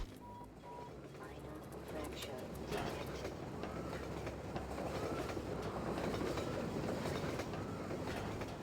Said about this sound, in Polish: Jedzie PKP, polskie kolej